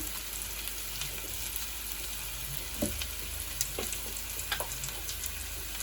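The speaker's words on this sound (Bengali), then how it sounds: "আলু পেঁয়াজটা লাল লাল ভাজা হয়ে যাবে" Potatoes and onions for aloo posto fry in a pan, giving a steady soft sizzle with a few brief stirring clicks and scrapes, close and fairly quiet, with no talking.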